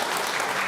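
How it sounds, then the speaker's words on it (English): An audience at a city council meeting claps in a dense, steady patter that lasts less than a second. "applause is not allowed according to the rules of City Council. So please don't applaud."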